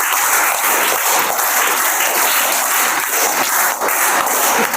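Audience applause at a prize-giving ceremony, a dense, steady burst of many hands clapping together, loud and sustained throughout with no speech over it.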